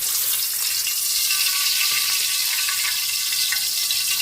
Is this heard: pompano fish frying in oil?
yes